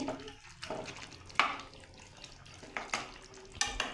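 Spoon stirring Bengali chicken korma with ghee and kewra water in a pan, producing soft wet scraping and scattered clinks against the metal, fairly quiet, with no voices.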